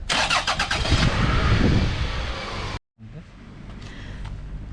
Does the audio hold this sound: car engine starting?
yes